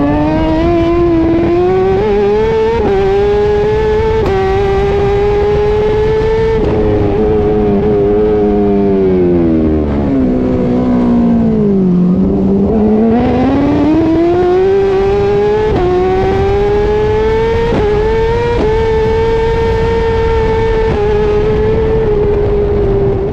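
A racing motorcycle engine screams at high revs during a race, dipping as it shifts and brakes, then climbing again, loud and close throughout.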